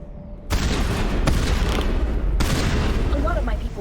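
Heavy explosive-ammo gunfire rips out in Mass Effect inside a cave, with a sudden loud burst that sustains, briefly drops and then surges again into a dense rumbling barrage.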